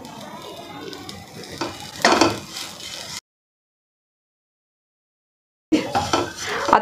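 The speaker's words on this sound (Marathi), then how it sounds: "आता ह्याला आपल्याला थोडंसं रेडिश कलर येईपर्यंत भाजून घ्यायचं आहे" Grated coconut with coriander roasting and stirred in a pan for a sesame-coconut chutney, a soft sizzle with scraping spoon-on-pan strokes, then a sudden silent gap before the stirring resumes.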